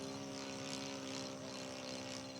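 A Top Flite Bonanza V35 model airplane flies under throttle after a stall test, its propeller engine holding a steady, continuous drone with a broad airy whine throughout, fairly loud and alone.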